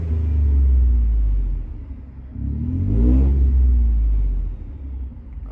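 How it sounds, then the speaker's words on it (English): A 2016 Ford F-150 with an EcoBoost engine and a resonator-delete exhaust revs twice, its deep, loud rumble swelling, dipping briefly, then rising again to a second strong rev before easing off, with no voices. "I'm gonna hit the gas so you guys can hear it too."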